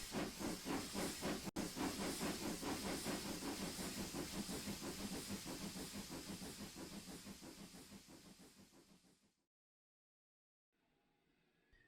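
Steam locomotive in a season-one episode of a railway story, hissing a loud steady jet of steam that pulses in a fast rhythm for about nine seconds, then cuts off abruptly into near silence with a faint trace at the end.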